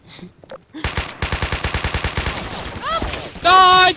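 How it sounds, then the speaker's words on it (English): Rapid automatic gunfire rattles in bursts in the video game Garry's Mod, loud and close, with shouting voices and a high electronic tone near the end. "We're taking fire! We're pinned down! Return fire!"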